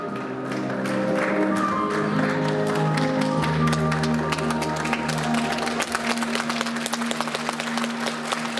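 A crowd applauds steadily at a school graduation ceremony where eleventh-grade classes receive their certificates, the dense clapping continuous and fairly loud throughout, with a steady musical background underneath.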